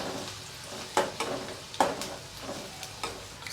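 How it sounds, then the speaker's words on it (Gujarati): Two medium onions, finely chopped, fry in a pan until pink, a soft steady sizzle broken by a few louder stirring scrapes, close up with no talking. "હવે આ ડુંગળી આવી ઝીણી સુધારવાની છે બે મીડિયમ સાઇઝની ડુંગળી લીધી છે અત્યારે અને ગુલાબી કરવાની છે"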